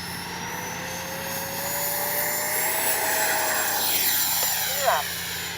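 An FMS Integral 80mm RC jet takes off with flaps up, its ducted-fan whine rising steadily and holding loud and close with a faint swell near the end; voices talk faintly under it.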